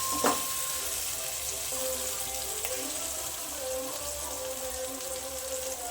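Curry leaves crackle and sizzle in hot oil while tomato thokku is being made, a continuous close frying hiss with small pops and spits throughout.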